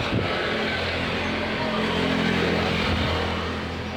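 Small motor tricycle engine idling and running steadily as riders set off, a continuous low rumble throughout with no talk.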